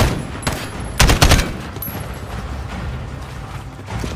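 Gunfire in the Call of Duty Modern Warfare campaign: a faint early shot, then a loud cluster of rapid close shots, followed by a lingering rumble and soft mechanical ambience.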